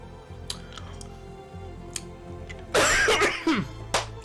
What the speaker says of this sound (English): This cough will not go away.